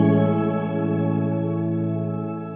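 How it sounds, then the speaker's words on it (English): Shimmer reverb from a TC Electronic Hall of Fame 2 pedal, pitched up an octave, rings as a sustained, dense wash of bright harmonic tones that slowly fades. "So you have the shimmer. What that does is it pitches up your reverb by an octave."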